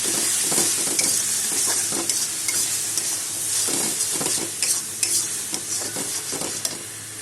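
Chilli, cumin and turmeric powders fry in hot oil with a loud, close sizzle, while repeated spatula scrapes and clatters mark vigorous, rhythmic stirring throughout.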